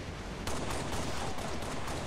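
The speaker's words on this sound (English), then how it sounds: "that's the mines going off because the arena is still happening" Mines going off in a Halo multiplayer Forge arena on PC: a sudden loud blast followed by a dense, continuous crackle of explosions and rumble that fills the rest of the moment.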